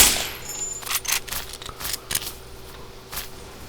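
Rapid gunfire in the Blockade 3D video game, with enemies marching out of their spawn firing: a loose string of sharp, clicky bursts at moderate level, spread unevenly across the moment with no talking.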